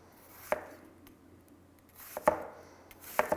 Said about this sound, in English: now I'm going to slice them as thin as I can